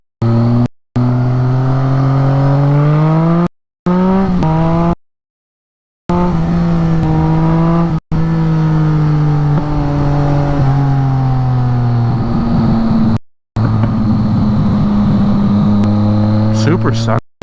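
A BMW motorcycle engine drones loudly while riding, its pitch rising and falling as the rider works through the gears, with several brief dropouts, and someone talks over it at times.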